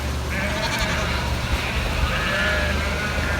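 Several sheep bleat as they are driven through a working farm campsite, over a constant low rumble of movement and engine noise, their calls overlapping at a moderate distance.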